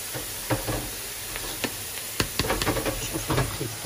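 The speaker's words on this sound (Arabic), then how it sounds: "هاو البصل كيفاش راه يتقلى" Onions frying in a pan as the first layer of an omelette, a low steady sizzle with scattered crackles and pops, plus a few scraping stirs, close and without talking.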